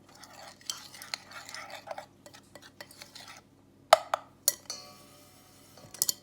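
Flour, paprika, black pepper and salt being stirred together in a bowl: scattered scraping strokes and a few sharp clinks of utensil against the dish, close and fairly quiet.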